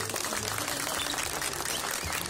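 Audience at a 2012 agency tournament in San Isidro Laguas, Oaxaca, applauding: a dense, steady wash of clapping, held at an even level through the whole stretch.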